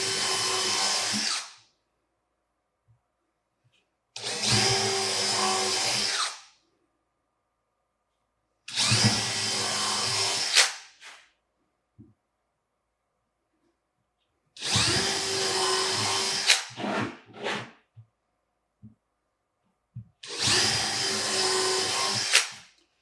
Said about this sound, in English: we're going to drill these 5 holes first.